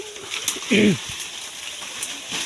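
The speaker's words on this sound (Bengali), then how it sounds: "একটা ঘুঘু" A dove gives a single short cooing call near a wooded spot with a nest, standing out briefly over a faint outdoor hiss with light rustling around it.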